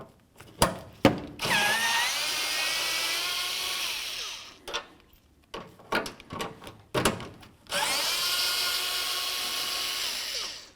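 A power tool whirs in two long steady bursts as it backs out the headlight access bolts on a 2006-08 Dodge Ram truck, separated by sharp clicks and clunks of handling, close and alone without talk.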